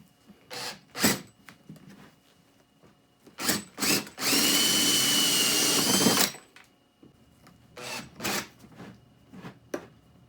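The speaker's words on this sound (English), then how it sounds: "Drill a hole in the battery box cover for the cigarette lighter socket outlet" A power drill bores a hole in a battery box cover for a cigarette lighter socket, one steady high whine lasting about two seconds, close and loud, between scattered clicks and handling knocks.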